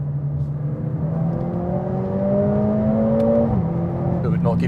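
A 2020 Mercedes-AMG A45 S engine revs up steadily under acceleration, its pitch climbing smoothly before a quick gear shift drops it, loud and close throughout.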